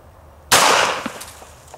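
A single shot from an H&K USP pistol firing a .45 ACP 230 grain ball round cracks sharply and loudly after a quiet moment, its report decaying into a short echoing tail.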